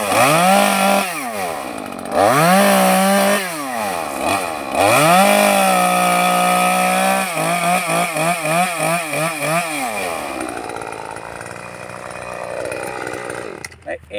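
A chainsaw prunes a young Hojiblanca olive tree in a dense grove in Posadas, Córdoba, revving up and down in loud close bursts, bogging and rising as it cuts, then dropping to idle near the end.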